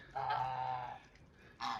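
A goose gives a long nasal honk, then a short pause before another honk starts at the end.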